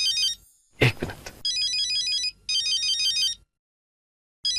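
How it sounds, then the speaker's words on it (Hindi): A mobile phone plays an electronic ringtone in bright, repeated trilling bursts with short gaps, loud and close, interrupted once by a brief rustle or knock. "शेट्टी का फोन।"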